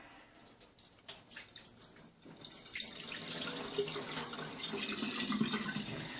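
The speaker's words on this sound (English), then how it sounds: "The whole point of this is to get this dust that's on this rice off of it, otherwise it'll be a little bit too sticky." Running tap water splashes over rice in a kitchen sink, starting softer with drips and then becoming a steady, fuller stream as water is rinsed and drained, close by with no talking.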